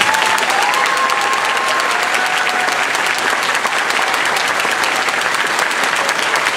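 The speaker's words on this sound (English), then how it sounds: "please, a fine round of applause for our contestants." Dense, sustained applause from a conference audience for speech contestants at a Toastmasters International Speech Contest, loud and even throughout with a faint whistle-like tone early on.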